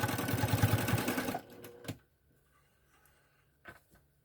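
A sewing machine stitches a memory bear in a quick, steady run of rhythmic needle clatter for about a second and a half, then stops, leaving faint clicks and small handling sounds.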